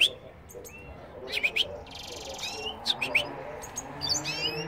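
Goldfinches and canaries singing close by, with quick high chirps, trills and twittering phrases that come in scattered bursts over a quiet background.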